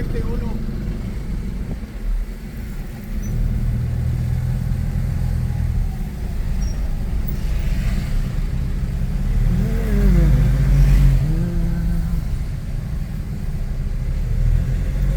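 Cars and motorbikes push through busy street traffic in Valencia in the Philippines. Engines rumble and rev continuously from close by, and the roar swells mid-way over a constant low drone.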